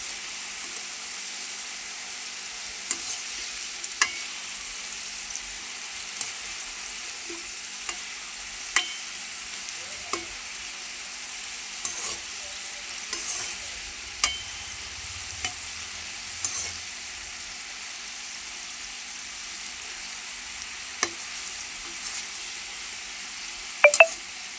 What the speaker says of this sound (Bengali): এই যে নিমচিগুলি এরকম লাল করে ভাইজা নিব।